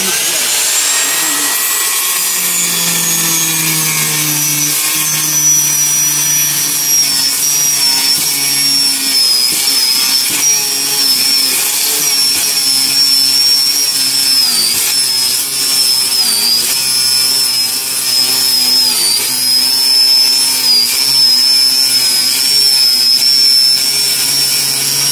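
A handheld saw cuts through wood on a boat cabin floor with a loud, continuous rasping grind that carries strong tonal whine throughout, sustained and close for the whole stretch.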